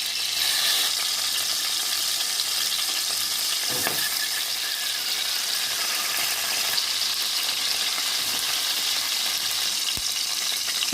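Whole tomatoes, cut at the stem ends, fry in oil with a steady, loud, continuous sizzle that fills the whole stretch, with occasional soft stirring knocks and no voices.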